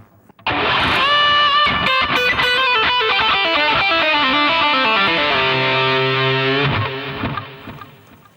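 An electric guitar plays a fast, tense run of notes in fifth position, loud and alone, ending on a sustained note that fades out.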